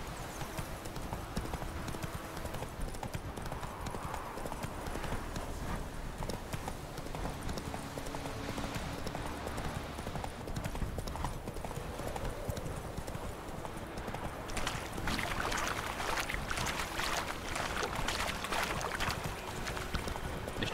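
Horse hooves clip-clop steadily under Geralt's mount in The Witcher 3, a continuous galloping rhythm that stays close and loud for the whole stretch, with a faint rise in clatter toward the end.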